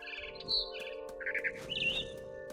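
Several bright bird chirps sound in What Remains of Edith Finch, short tweeting calls in quick succession over a steady tonal game hum.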